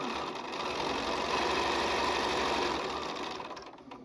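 Sewing machine chain piecing charm-pack quilt blocks, a steady close whirring hum of rapid needle strokes running continuously, fading slightly at the end.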